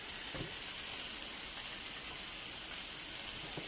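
A sweet potato laid skin side down in a hot pan gives off a steady, even sizzle, close and fairly quiet, with no voices over it.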